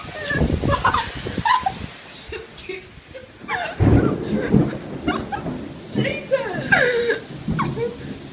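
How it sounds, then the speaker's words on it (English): Morning thunderstorm with thunder rumbling and rain falling, loud and close, heard beneath excited talking and exclamations from people nearby. "This is the thunderstorm going down this morning."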